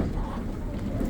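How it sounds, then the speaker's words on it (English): Steady, heavy low rumble of 35 to 40 mph wind during an arctic storm, buffeting constantly across the whole stretch, loud and close, with no pauses. "Listen to that wind."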